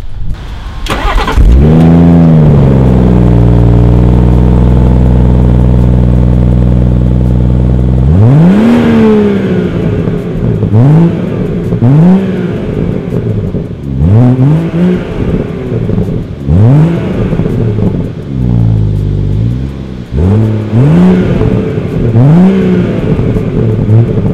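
A car engine revs hard and loud, rising in repeated bursts of acceleration as it is driven, with a long steady idle-like drone first and gear changes between pulls, no talking.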